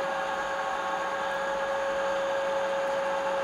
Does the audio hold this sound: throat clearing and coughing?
no